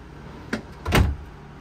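An interior drawer in an RV slides and shuts: a light knock, then a fuller, louder rolling thud about half a second later, with no voices.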